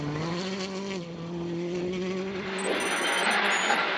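Green-liveried Hyundai i20 rally car on a wet stage at the Galway International Rally, its engine droning at a steady pitch and then changing note as it drives on, with a high whine entering near the end.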